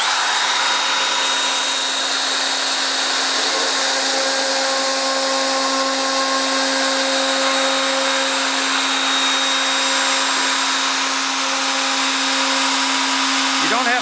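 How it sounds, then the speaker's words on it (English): A router cutting a slot into a wood panel outdoors for a DIY sound absorption panel, a loud, steady high-pitched whine with a constant motor hum running throughout. "I set up a router with the bit slightly deeper than the depth of the wood"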